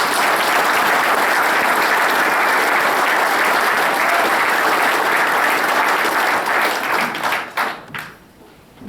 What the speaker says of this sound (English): Williams, please give him a big round of applause.